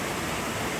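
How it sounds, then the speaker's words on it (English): A waterfall spilling into several clear pools on Mt Olympus, Greece, gives a steady, dense broadband rush of falling and flowing water, close and loud, with no voices. "Waterfall. It's like several pools here, crystal clear."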